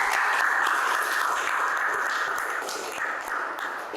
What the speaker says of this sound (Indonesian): tepuk tangan untuk Serni